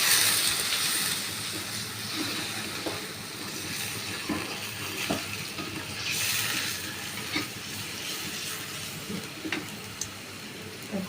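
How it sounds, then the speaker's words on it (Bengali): A little water goes into a browned, frying spice paste in a pan, bringing a hissing sizzle and soft stirring scrapes, fairly quiet and close, with no talking. "এখন আমি এখানে সামান্য একটু পানি দেবো"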